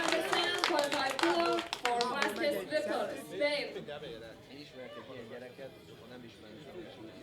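Crowd clapping and cheering in an arena after a lift at a junior men's 105 kg classic powerlifting championship, loud at first and fading under commentators' voices as the applause dies away.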